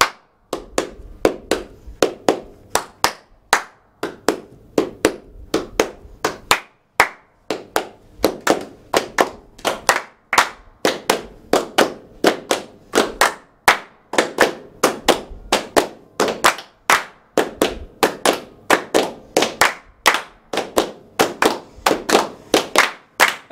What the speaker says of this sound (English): This one does work quite nicely just to sort of do soft claps and loud claps.